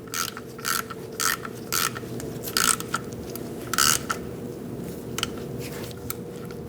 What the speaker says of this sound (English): Snug it up and torque it to 18 foot-pounds.